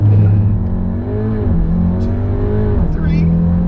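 Stage 1 tuned Volkswagen Golf R doing a full-throttle launch-control start from about 4,000 RPM, the loud engine note climbing steeply through the gears with a brief dip at each shift, with voices talking over the run.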